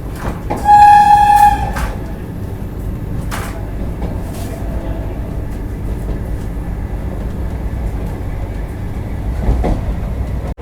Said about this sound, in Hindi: यहाँ पर इसको ओवरटेक कर रही है अपनी वंदे भारत एक्सप्रेस